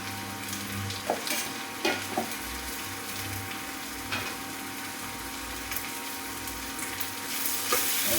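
Chopped tomato and a few curry leaves sauté in a pan for mushroom curry, giving a steady close sizzle broken by occasional stirring scrapes and taps, with the frying growing slightly brighter near the end.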